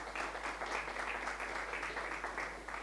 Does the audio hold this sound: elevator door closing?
no